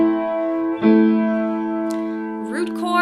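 Piano chords played one after another, a root-position chord struck and held, then a first-inversion chord struck with a clear attack, both ringing loudly and close with no voices.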